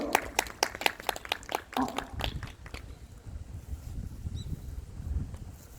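A small crowd at an outdoor press conference gives a short burst of clapping. It is loudest at the start, thins out within a couple of seconds, and then fades into wind noise and low rumble.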